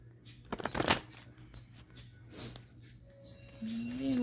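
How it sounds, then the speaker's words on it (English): Cards riffled together in one quick burst, followed by quieter handling noise and a faint rising tone near the end. "And one more shuffle."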